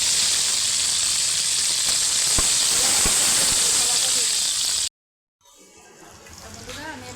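Cashews and raisins frying in hot oil for a mixed-vegetable and lentil khichdi, a loud, steady hiss and sizzle that cuts off abruptly, then resumes more softly.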